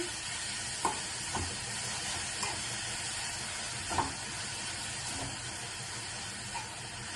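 Chukka koora (sorrel leaves) frying in a pan, a steady loud sizzle and hiss with occasional soft scrapes and clicks of stirring spaced through it, no voices.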